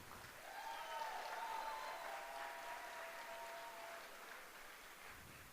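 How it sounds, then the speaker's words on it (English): A conference audience in Las Vegas breaks into sustained applause, a broad wash of many hands clapping at once that swells early and then slowly tapers, with a few whoops above it. "So let's give a big round of applause."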